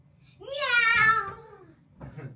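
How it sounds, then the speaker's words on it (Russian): An interactive toy cat lets out a long, rising-then-falling electronic meow, loud and close, followed by a shorter second mew. "Смотрите, прям какой там был рык мяу."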